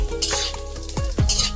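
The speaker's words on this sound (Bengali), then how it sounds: "দিয়ে আমি ভেজিটেবলটিকে ভেজে নেব।" Vegetables frying with bay leaf, dried chilli, whole garam masala and chopped ginger in a pan, a steady close sizzle broken by a few bursts of stirring and scraping.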